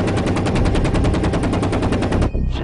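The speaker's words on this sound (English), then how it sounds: "It's a 20-millimeter cannon." An M197 20-millimeter helicopter cannon fires a loud, rapid, evenly spaced burst of about two seconds, then cuts off abruptly into a short fading echo.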